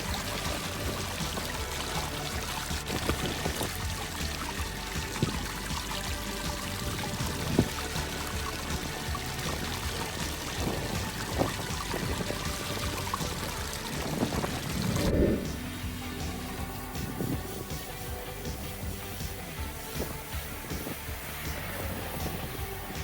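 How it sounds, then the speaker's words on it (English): Water pours and washes steadily over gold tailings material being worked down to concentrate, a continuous rushing wash with occasional splashes throughout. "we're going to wash out our material, and we'll get it down to the concentrate."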